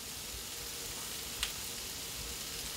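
Vegetables sizzling in a pan on a stovetop for a salmon dinner, a steady soft hiss of frying with one brief sharper crackle midway, faint and without talk.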